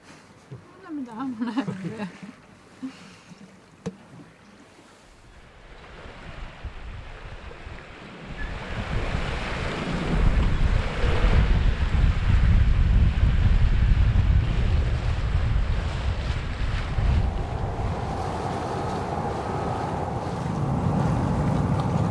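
Heavy storm wind buffets the microphone in rising gusts while sailing in winter toward Alaska, with a low roar of water and waves beneath; a voice speaks briefly near the start.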